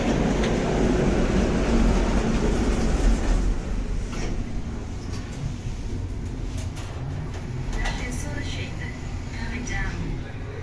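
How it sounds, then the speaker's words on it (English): A small airport people-mover transit train rumbles along steadily with a low mechanical hum, passing through an enclosed space while people talk nearby. "This is a little transit train sort of people mover style system"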